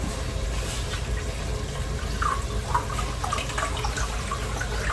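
Broth poured from a package into a measuring cup in a home kitchen for artichoke and spinach soup, a steady close liquid pour and splash running without pause.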